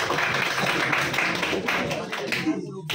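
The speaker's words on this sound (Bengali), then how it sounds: "হাততালি, ভেরি গুড, হাততালি" A group of quiz participants clap together for a correct answer, a steady burst of close, lively clapping lasting nearly three seconds before cutting off, with voices mixed into the crowd noise.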